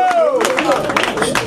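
An audience at a live show claps in a short, loud burst of a few hand claps, mixed with a voice speaking over them.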